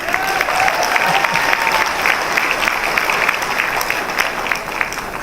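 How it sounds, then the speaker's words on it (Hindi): An audience at a seminar bursts into loud applause, dense continuous clapping from many hands in a hall that holds steady for several seconds, close and enthusiastic, with no voices standing out. "उनके लिए जोरदार ताली।"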